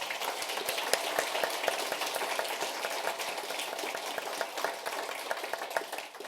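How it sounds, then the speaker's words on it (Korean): Church congregation applauding to encourage the choir, steady dense clapping from many hands, moderately distant and continuous without talk. "우리 찬양대원들 박수로 한번 격려합니다."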